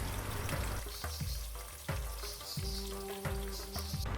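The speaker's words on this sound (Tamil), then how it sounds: "எண்ணெய் நல்லா சூடாயிட்டோன்னே வெட்டி வச்சுருக்கிற வெங்காயத்தை சேர்த்துக்கலாம்." Chopped onions added to hot oil with whole spices such as fennel for a semi-dry chicken gravy, giving a close, crackling sizzle with sharp pops and clatters from stirring.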